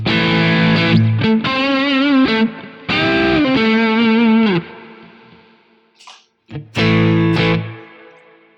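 Heavily overdriven electric guitar, a drive tone from a Nano Cortex or Quad Cortex capture, plays several sustained, gritty notes with bends and pauses between phrases, loud and saturated.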